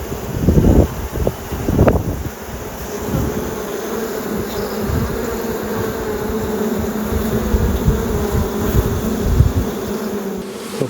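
Honey bees buzz steadily around an open hive in an Australian bee yard, a continuous close drone with a few louder passes near the start, faint breeze noise underneath.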